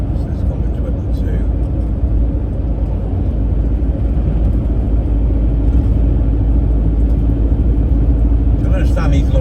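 Road traffic with lorries on a busy road, a steady low rumble of engines and tyres passing close by under someone talking, with a louder passing vehicle toward the end.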